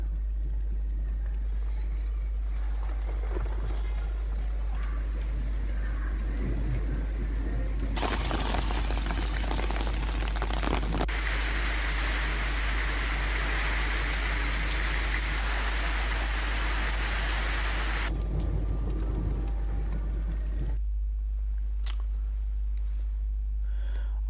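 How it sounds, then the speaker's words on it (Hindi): Heavy rain falls across a district in Rajasthan as a steady broad hiss over a constant low hum. The downpour grows louder and brighter through the middle stretch, then eases. "जिले भर में झमाझम बारिश हुई।"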